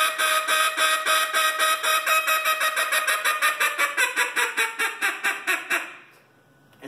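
A single duck call blown in a high-ball contest routine during a calling seminar at a riverfront museum gives a loud, close run of about thirty evenly spaced quacks that step steadily downward before cutting off into quiet.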